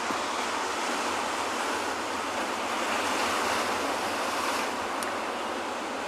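Stormy sea waves roll onto a penguin beach in a steady, loud wash of surf, with constant wind over it and no distinct breaks between the waves.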